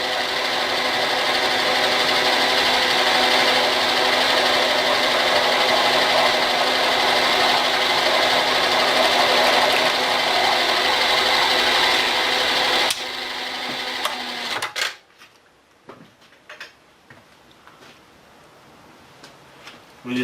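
A machine running at 135 RPM with hand feed engaged while repairing an ATV Mattracks part gives a steady, loud whirring drone for about thirteen seconds, then winds down and stops, leaving scattered small clicks.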